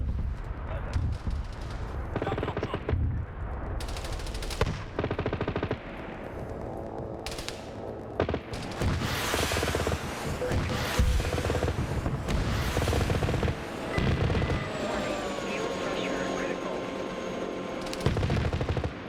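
Rocket fire and explosions in a video game, a fairly loud, dense run of bursts, booms and rapid gunfire-like blasts continuing for the whole stretch without pause.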